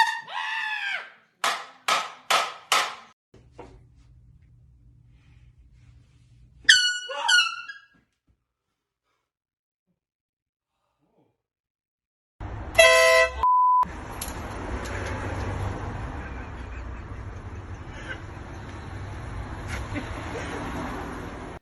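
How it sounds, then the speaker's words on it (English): Several loud air horn blasts set off as pranks, sharp repeated honks near the start, followed by silence and then a burst of noisy commotion. "The air horn pranks always crack me up."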